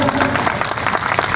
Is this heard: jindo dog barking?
no